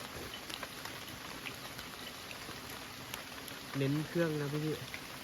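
Steady rain patters outdoors, a soft continuous hiss of drops on surfaces at a makeshift outdoor cooking spot, with a voice speaking briefly near the end.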